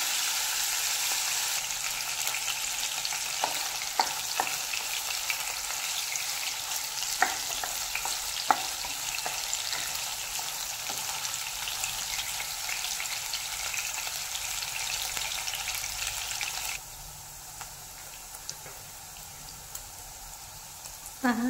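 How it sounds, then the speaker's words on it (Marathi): Paneer cubes frying over a low flame for a paneer biryani, a steady broad sizzle with occasional crackles and utensil taps, the hiss easing near the end. "पनीर ही लो फ्लेमवरतीच फ्राय करून घ्यायचं 2 ते 3 मिनिटे दोन्ही साईडून."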